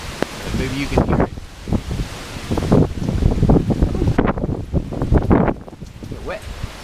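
Hurricane winds whip through trees in a bee yard at night, with gusty roaring bursts and heavy buffeting on the microphone, and someone speaking in between.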